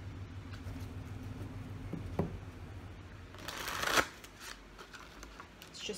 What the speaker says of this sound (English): We're also going to be pulling clarifiers off of the traditional Rider-Waite tarot deck.